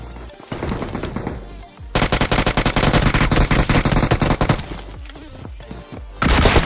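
Rapid bursts of automatic gunfire in the BGMI battle royale game, loud and close, firing in dense rattling volleys with a brief pause before a final burst.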